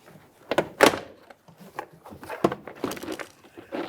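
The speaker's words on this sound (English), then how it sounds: "Make your way in between the door panel and the door itself and gently start prying them apart." A plastic trim tool prying a Ford Fusion door panel away from the door, giving a few sharp plastic snaps and thunks amid quieter scraping and handling noises, close and fairly faint.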